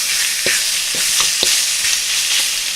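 Pork sizzling and being stir fried in a pan, a steady loud hiss of frying broken by several sharp scrapes and clanks of the spatula against the pan, with no talking.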